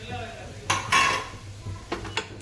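Mashed boiled potatoes being mixed with onion and chili in a pan, a few close scrapes and clinks of a spoon against metal.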